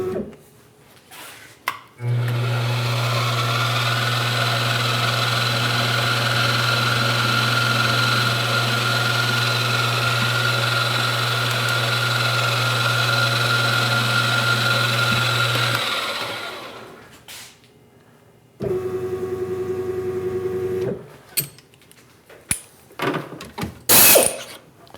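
A drill press or power drill running a tap drill through metal in a workshop, a long steady motor whine with a low hum that winds down, then a shorter second run and a few sharp knocks and clanks.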